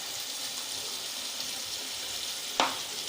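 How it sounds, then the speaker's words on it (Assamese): Mustard paste fries in a pan for an okra and pumpkin curry, a steady, even hiss that continues throughout, cut by one sharp clatter of a utensil near the end. "এতিয়া আপুনি অকণমান মানে ভাজিব লাগিব সৰিয়হ পেষ্টখিনি দিয়াৰ পিছত"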